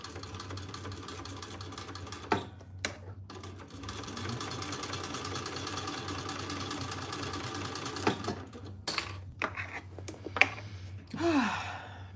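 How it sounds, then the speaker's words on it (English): Sewing machine doing top stitching on a small bag, a faint steady mechanical whirr running in bursts with brief pauses, plus a few soft clicks and rustles at the end. "Top stitching."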